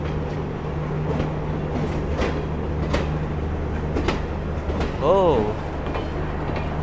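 A passenger train hauled by a WAP-4 electric locomotive rolls past with steady low rumble and periodic clacks of wheels over rail joints, a brief horn-like tone near the end, and a short exclamation from a nearby voice.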